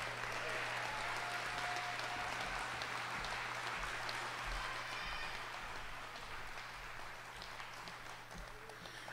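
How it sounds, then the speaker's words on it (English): Sustained audience applause at a union local graduation ceremony, a dense, even wash of clapping from a large crowd heard over a steady background hum. "One more round of applause for Thomas."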